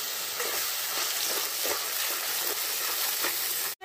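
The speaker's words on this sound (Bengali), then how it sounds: "ক্যাপসিকামটা হালকা ভাজা ভাজা করুন বন্ধু, খুব বেশি না।" Capsicum fries lightly in a pan for a paneer dish, producing a steady, even sizzling hiss throughout that ends with a sharp click.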